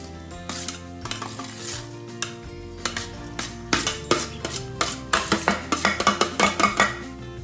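Parboiled rice tipped into a ghee-coated pot for Mutton Keema kachchi biryani, giving a busy run of clinks, scrapes and metallic knocks that grows denser toward the end, with no voices.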